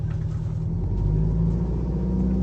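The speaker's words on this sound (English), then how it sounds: "And then do your full throttle acceleration." A Detroit Diesel truck engine, down on power, pulls under full throttle from a stop, giving a steady, loud low rumble with a throbbing pulse that holds through the whole stretch, with no talk.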